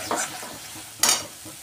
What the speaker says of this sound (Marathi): मसाले तेल सोडेपर्यंत आपण याला छान असं तेलामध्ये परतवून घेणार आहे.